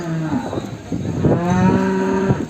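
A pregnant buffalo at the Erragadda buffalo market moos in two long, low, drawn-out calls, close and loud, with a short pause between them.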